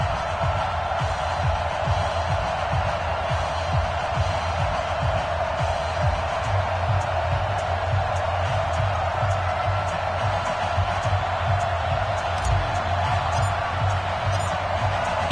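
Football crowd at M&T Bank Stadium in Baltimore as the Ravens and 49ers take the field, a steady, dense roar of many voices with low rumble throughout, continuous and fairly loud with no single standout cheer.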